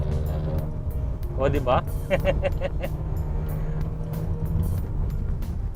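A 2020 Mitsubishi Xpander Cross seven-seater accelerates on a road, its steady engine and road rumble running throughout, with a short spoken remark inside the cabin.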